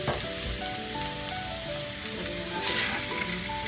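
Shrimp hits a pan of already-cooked onion for a vegetable spring roll filling, giving a loud, continuous sizzle that swells near the end, with music playing underneath.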